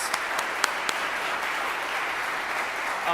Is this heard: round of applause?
yes